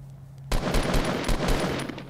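Rapid automatic gunfire in the video game Fortnite bursts in abruptly after a short hush, a quick run of loud, close shots lasting under two seconds.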